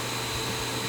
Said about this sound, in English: you'll hear the vacuum come on